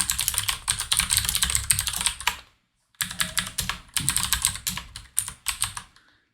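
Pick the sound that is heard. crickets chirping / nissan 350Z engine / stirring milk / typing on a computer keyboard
typing on a computer keyboard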